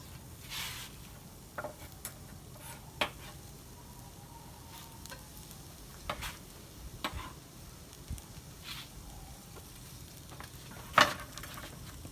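Onions cook in a couple tablespoons of butter in a pan, a soft, fairly quiet sizzle broken by scattered pops, clicks and utensil taps, with one sharper knock near the end.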